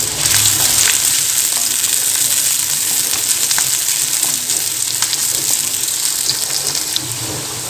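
Sliced onions sauté in a pan with a loud, steady sizzle and occasional stirring scrapes, close by and constant throughout, easing slightly toward the end.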